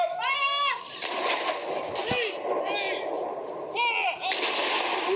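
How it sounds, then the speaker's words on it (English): A single artillery gun fires a ceremonial salute, one sharp booming report near the middle, while a commentator speaks over a steady background of crowd and outdoor noise. "as the next gun is fired."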